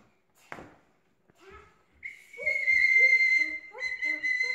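After a few taps and shuffles, a shrill whistle blows twice, a long steady blast and then a shorter one, loud and close.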